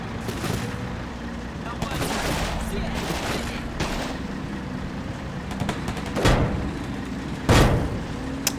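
In the video game Combat Mission Black Sea, a .50 cal machine gun fires in a steady, dense, rumbling stretch of bursts with sharp louder cracks near the end, heard from a moderate distance.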